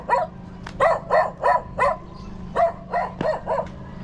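Dogs bark in a run of about ten sharp, evenly spaced barks at moderate distance, with a short pause midway.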